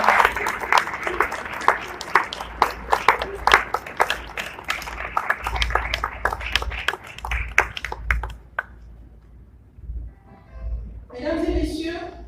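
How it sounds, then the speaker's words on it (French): Hand clapping for government members at the close of an official ceremony: a dense run of sharp, scattered claps for about eight seconds that then thins out, with a brief voice near the end. "On applaudit les membres du gouvernement sous observation."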